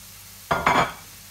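Garlic and vegetables hit a hot pan and are mixed, giving two quick close bursts of sizzling and scraping that fade within a second.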